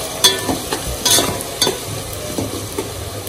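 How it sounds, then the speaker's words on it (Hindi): Onions frying in a pan for egg biryani: a steady sizzle under repeated scraping and stirring strokes, close and moderately loud, with no talking. "इसलिए मैं फ्रेश ही प्याज को भूनती हूँ और बनाती हूँ"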